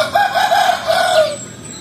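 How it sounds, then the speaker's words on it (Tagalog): Free-range native chickens clucking and a rooster crowing nearby in a backyard farm, a steady run of bird calls over a soft farmyard background. "Ito pala yung ating mga palaking manok."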